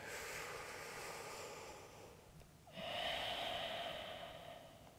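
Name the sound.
breathing during yoga lunge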